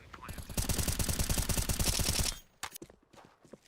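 Rapid automatic gunfire from a Five-SeveN, Desert Eagle and AK in a Counter-Strike match, a dense loud burst of rattling shots lasting about two seconds, then a few scattered sharper cracks and faint clatter.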